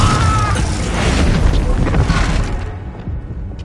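A Confringo fire-blast spell explodes in the Hogwarts Legacy game, a loud, full-band boom with a roaring, crackling body that holds for about two and a half seconds before tailing off into a fainter rumble.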